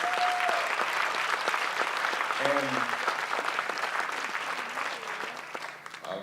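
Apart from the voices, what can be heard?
audience applause for the speakers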